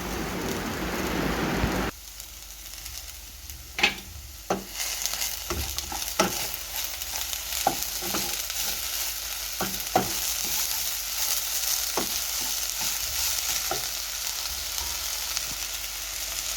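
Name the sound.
sambar cheera greens being sautéed and stirred in a pan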